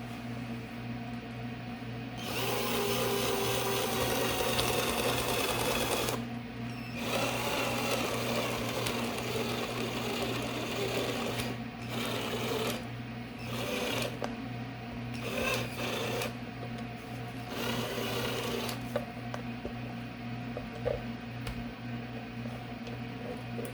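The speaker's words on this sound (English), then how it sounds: "We're gonna go ahead and drill it." A power drill whirs in repeated bursts of varying length, with short pauses between runs as screws are driven into a resin trinket box. No one speaks.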